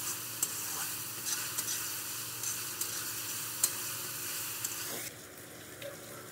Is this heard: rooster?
no